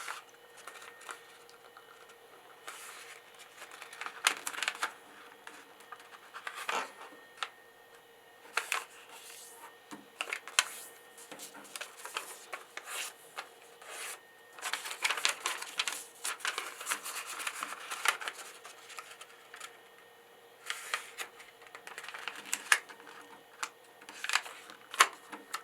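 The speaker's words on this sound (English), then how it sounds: "we're going to fold corner to corner" Origami paper folded corner to corner for diagonal creases, making faint, quiet crinkles and soft ticking taps that come and go in irregular bursts, with no one speaking.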